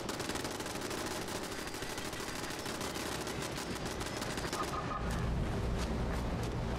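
Automatic turrets in the video game Fallout 76 rattle off rapid, continuous gunfire, a dense close burst that thins toward the end before a heavier low rumble takes over.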